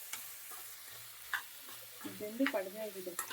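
Homemade mixed pickle of salted hill gooseberry and other fruit being stirred into hot tempering, giving soft scraping and light sizzle with a few clinks of the spoon against the pan, growing busier toward the end.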